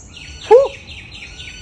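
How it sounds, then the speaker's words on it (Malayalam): A single short bird chirp rises clearly above a quiet outdoor background, followed by soft faint calls and the start of another chirp. "കിളിയുടെ സൗണ്ട് ആട്ടോ നിങ്ങൾ കേൾക്കണത്"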